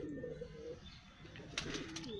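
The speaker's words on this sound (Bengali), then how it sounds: "ওই যে একটা নাপ্তা পায়রা ডাকছে" A pigeon coos softly and low, somewhat distant, with a flock of pigeons that has just landed nearby. Faint background noise runs underneath.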